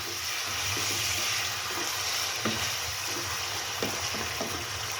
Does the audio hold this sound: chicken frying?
yes